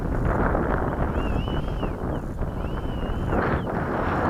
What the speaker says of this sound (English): The wind's blowing, that helps with takeoff.